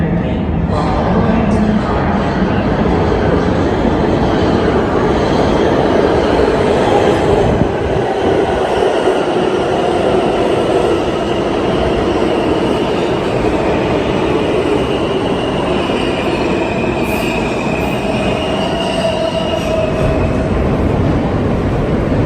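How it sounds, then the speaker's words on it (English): A New York subway E local train rumbles through 23rd Street station, a loud, steady roar of rolling wheels and rail noise that lasts the whole stretch with no break. "we'll have to wait 18 minutes to catch the first E-local train of the day"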